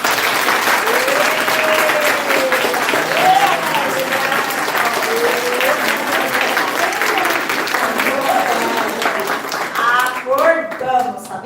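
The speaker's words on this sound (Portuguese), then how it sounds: "dê uma salva de palmas para ele" A seminar audience at a Deaf culture and sign language event claps loudly and sharply for a colleague, dense sustained applause with voices and laughter mixed in and scattered cheers near the end.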